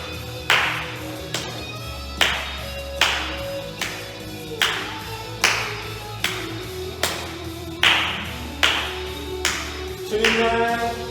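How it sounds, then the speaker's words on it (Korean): Children clap along in time to a worship song at a Sunday school service, sharp regular claps roughly every second, close and loud over sung music with a steady beat. "자, 박수!"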